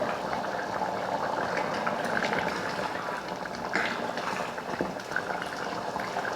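Mutton kulambu gravy simmering in a pot, thickened after about ten minutes of cooking: a steady close bubbling and spluttering hiss with a few louder pops, heard alone without talk.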